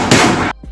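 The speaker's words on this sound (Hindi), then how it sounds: "क्रूज अंधाधुन गोलियां चलानी शुरू कर देता है" A single sharp gunshot sound effect cracks loud and close, with a short ringing tail that drops off abruptly, followed by a faint secondary thump.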